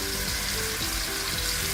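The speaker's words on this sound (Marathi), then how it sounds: "यामध्ये आपण हे जे मॅरिनेट केलेलं पनीर आहे ते थोडंसं परतून घ्यायचंय" Marinated paneer sautéing in a pan, a steady close sizzle and frying hiss with faint stirring scrapes, no talk.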